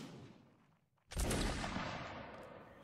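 A musket line fires in the Napoleonic Wars mod of Mount and Blade Warband: after a quiet moment, a sudden loud volley of rifle shots rings out and then fades slowly.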